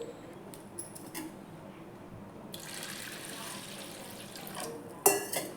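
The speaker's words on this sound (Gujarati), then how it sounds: "અને આ પાણી આપણે બદલીને બીજું પાણી એડ કરીને ફરી ધોઈ લઈશું." Dal being rinsed in a pot of fresh water, with soft steady sloshing and trickling, a few small clinks of the pot, and a sharper splash near the end.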